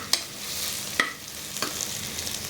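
Onions sauté in a pan for a mutton and drumstick kurma, a steady sizzle broken by three sharp scrapes of a spoon against the metal, spaced roughly evenly, with no voices.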